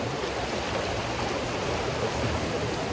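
Steady, full rush of the Hinaguan River running high, a dense continuous roar of flowing water close by with no pauses and no voices.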